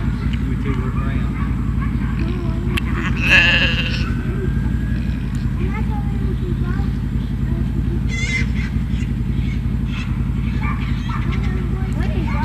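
Newborn lambs bleat in a barn as a ewe cleans them after birth, with a short, loud bleat rising above steady low background noise and other faint animal calls.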